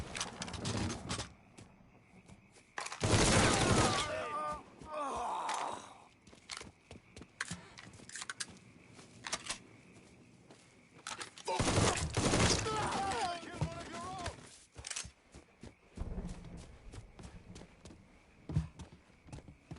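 Gunfire in a Mafia 3 shootout arrives in two long, loud, dense bursts with scattered single shots between them. Shouted voices and background game sounds run underneath.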